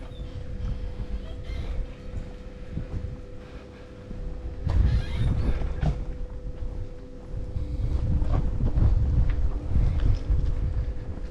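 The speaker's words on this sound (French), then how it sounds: "Je suis désolé, il y a du vent." Wind buffets the microphone on a hilltop at Rennes-le-Château in low rumbling gusts that swell and fade, growing stronger toward the end, with no voices.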